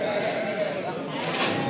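Lambs bleating at a busy livestock market, a short wavering cry close by over a background of crowd chatter and people talking.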